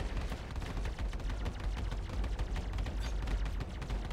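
Rapid bursts of spaceship gunfire in the space combat game Star Citizen, a dense, continuous barrage of loud booming shots with no pauses.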